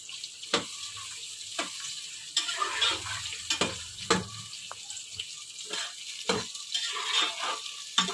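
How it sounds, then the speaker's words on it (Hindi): Onions fry in about one and a half cups of hot oil for beef korma, crackling and bubbling close up while a spoon scrapes and knocks against the pot at irregular intervals, with no talking. "प्याज को हम अच्छे से फ्राई कर लेंगे"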